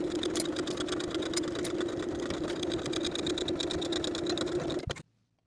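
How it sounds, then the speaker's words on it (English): A sewing machine stitching the side seams of a vintage drop-waist dress, a steady fast mechanical whir with rhythmic needle ticking that runs continuously for about five seconds before stopping abruptly. "I'll sew the side seams with a 1/2 inch seam allowance and press them open."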